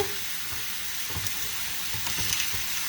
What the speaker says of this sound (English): And now I'll throw our onions in.